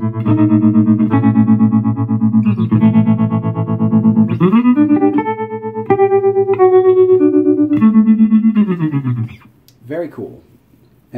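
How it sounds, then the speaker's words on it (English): Electric guitar through a Fender Champion 100 solid-state 2x12 combo amp with a slapback delay effect, played as loud sustained chords and single notes with a quick repeating echo, ending in a few scratchy noises. "Then we get a slapback style."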